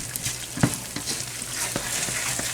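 Coconut raisin fudge with peanuts and butter being stirred in a pot near the soft ball stage, a soft bubbling sizzle with a few spoon scrapes and knocks against the pot, close and steady.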